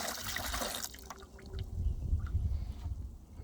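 Vinegar pours and splashes into a container over railroad spikes, a close liquid gush at first that settles into softer burbling and trickling for a few seconds.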